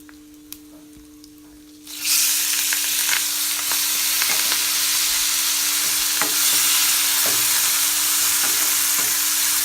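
Tomatoes, dried red chilies and curry leaves hit hot oil for a South Indian rasam, bursting into a loud, steady, close-up sizzle that carries on without pause after a quiet start.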